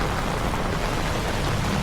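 Heavy typhoon rain from Typhoon Carina pours down as a dense, continuous roar of broadband hiss, loud and unbroken, with no voices.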